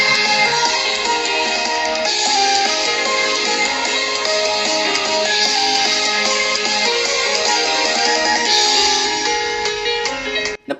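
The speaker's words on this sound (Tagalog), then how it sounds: "Ito yung tunog ng speaker." Music played loudly through the dual speakers of an Infinix Hot 50i smartphone, a dense, continuous stream of tones and beats running for about ten seconds before cutting off abruptly.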